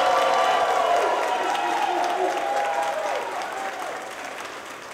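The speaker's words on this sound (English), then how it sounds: "Let's give all of our graduates another round of applause." Crowd applause honors graduates at a 2017 workforce graduation ceremony, a dense sustained clapping that starts full and slowly tapers over five seconds, with faint voices mixed in.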